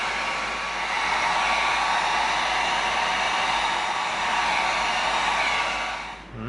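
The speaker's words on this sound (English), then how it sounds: "We'll get the heat gun going just to seal up that raw foam" A heat gun blows a steady, loud whoosh of hot air over raw EVA foam to seal it while a Star Trek phaser prop is made. The whoosh runs without a break and fades out at the end.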